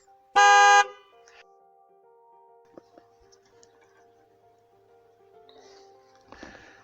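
A car horn with both horns connected gives one sharp, loud, half-second honk. Afterward comes a quiet stretch of faint ticks, then a brief rustle near the end.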